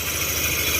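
Yamaha NMAX 155 scooter engine idling steadily after repair, its uncovered drive pulley whirring; a continuous close, even hum and rumble with no knocking, alone throughout.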